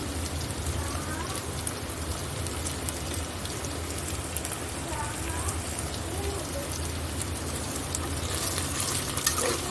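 A pan of aloo bath (potato rice) with oil and two spoons of garam masala gives a steady close sizzle as it is stirred. The sizzle holds evenly throughout, with faint scraping and no voice.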